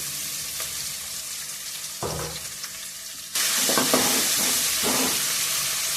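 Garlic sizzles in a hot pan, a steady frying hiss that jumps louder partway through as more goes in, with light stirring scrapes.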